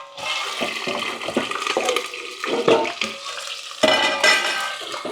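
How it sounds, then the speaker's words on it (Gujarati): Potatoes drop into hot oil with spluttering mustard seeds and cumin, setting off a loud, steady sizzle with crackling bursts, stirring scrapes, and a fresh surge of hiss near the end. "જીરું રેડી થઈ ગયું છે તો હવે બટેટા નાખી દઈએ"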